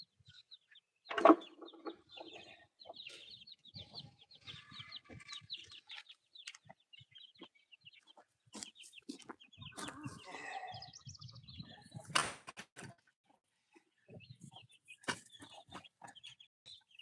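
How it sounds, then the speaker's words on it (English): Backyard chickens cluck around a coop with a rooster among them, a loud burst near the start and scattered bird calls throughout, mixed with rustling and brief bits of nearby talk. "There's my big rooster right there."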